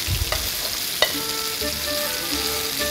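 Pieces of lamb fry in a pan for a traditional Armenian dish, giving a continuous crackling sizzle close by. A few sharp clicks of stirring or utensils cut through, and no one speaks.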